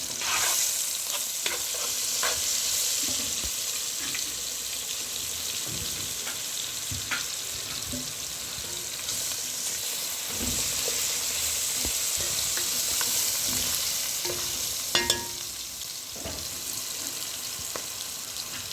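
Fresh ginger garlic fries in hot oil for a mutton curry with peas and potatoes, giving a steady, close sizzle with occasional spoon stirs and a sharp clink near the end.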